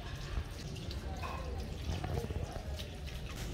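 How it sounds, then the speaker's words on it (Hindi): Fresh whole fish are rinsed under water in a kitchen, with dripping and splashing running steadily through the clip beneath a voice talking. "इनको अच्छी तरह तीनों को हमने पानी से साफ कर लेना है"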